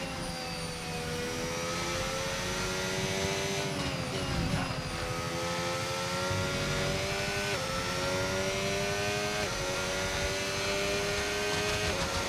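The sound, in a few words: race car engine behind the player in F1 25 video game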